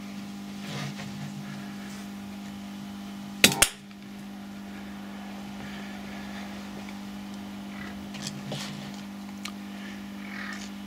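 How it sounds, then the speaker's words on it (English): A 15 amp rewireable fuse wire blows under a fault current of about 100 amps, giving one sharp, loud explosive crack over a steady electrical hum, then quiet. "that's more of an explosion, and the fuse wire is actually vaporized away and forcibly flies out of the fuse holder."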